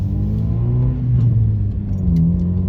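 A car drives along a narrow country lane, its engine a loud, close, steady drone that swells slightly as it revs, with no talking.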